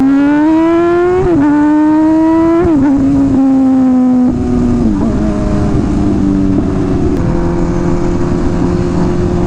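A Chevrolet Camaro's engine drones loudly and close, its pitch rising and dropping through several revs and shifts in a strong, steady tone.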